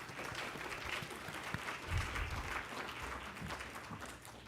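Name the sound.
congregation applause for Lynn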